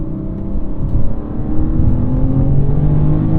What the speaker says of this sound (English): Now it actually sounds more like a proper inline six.